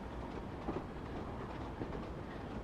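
Train running in the Train Sim Classic game with an old-school DMU or steam engine, a low, steady rolling rumble with faint clickety-clack from the wheels, heard on its own at a moderate level.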